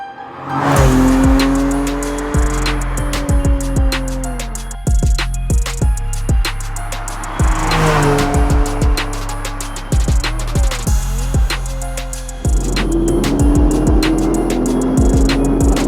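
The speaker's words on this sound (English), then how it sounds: "So let's jump in the car and get you your drive-bys." Porsche 718 GTS 4.0 sports car passing on a quiet road, its engine rising and falling in pitch as it approaches and drives by, loud and close, with gear changes and a sustained rev toward the end.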